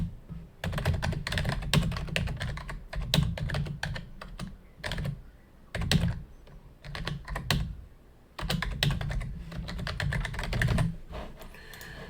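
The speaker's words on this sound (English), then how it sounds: "Although I don't love typing out the hands, I do want to do it here" Rapid clattering keystrokes on a computer keyboard come in bursts with short pauses between them, close and fairly loud, with no one speaking.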